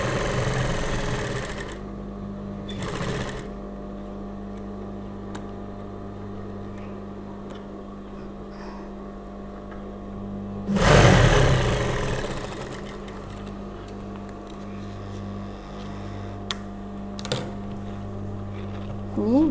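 Sewing machine running steadily while stitching along a drawn neckline on fabric, a continuous mechanical whir with a brief louder burst partway through.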